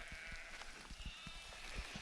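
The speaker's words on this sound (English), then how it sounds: "there's lots of lambs in there, and they're having a bit of a chatter" Lambs bleat repeatedly in the distance, several overlapping calls rising over a soft, steady outdoor hiss.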